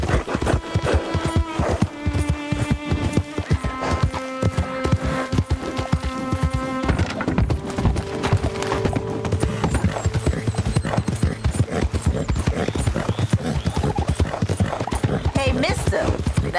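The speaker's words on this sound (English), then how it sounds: "one nice looking horse you got there" A horse's hooves clip-clop steadily and up close over a busy western ride, with music and frequent talking layered on top.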